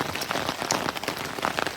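Steady, heavy rain patters densely on a surface close by, likely a tarp at a backpacking camp on the Elk River Hiking Trail, a continuous hiss of drops with no voices.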